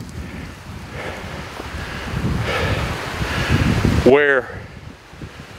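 Strong wind buffets the microphone on a high, exposed overlook on Mount Pisgah in steady broadband gusts, with a voice speaking over it and a brief whistling tone near the end.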